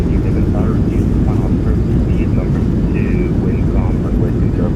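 Thrust reversers roaring on a PMDG 737-700 landing in Microsoft Flight Simulator 2024, a loud, steady broadband jet rush that fills the whole clip, with a voice talking over it.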